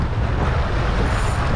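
Strong northeasterly wind blows over the sea during a fishing trip, a dense continuous roar buffeting the microphone with no voices.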